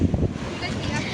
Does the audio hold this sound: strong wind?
yes